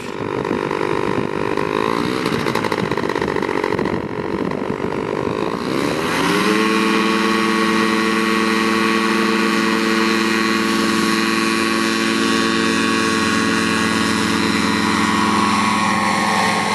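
A paramotor engine roars steadily through a takeoff at an open-field gathering of powered paragliders, its buzzing tone sweeping upward as the throttle opens about six seconds in, then holding at a loud, sustained high pitch with no talk.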